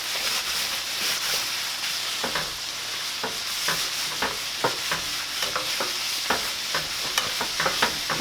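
Bologna, zucchini, onion and garlic fry in a hot pan with a steady broadband sizzle, broken by frequent sharp scraping and stirring clicks from a utensil, close and fairly loud, no voices.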